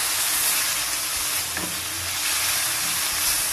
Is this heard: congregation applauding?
no